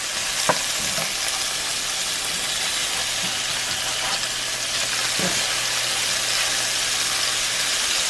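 Food sizzles steadily in a cast iron pan, a continuous close frying hiss with a few soft scrapes and clacks as pieces are flipped, no talking.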